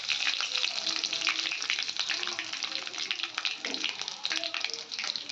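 Mustard seeds, cumin and curry leaves crackle and sizzle in hot oil in a pan for a Maharashtrian chili bhaji, a dense, bright spitting hiss with scattered pops, fairly close.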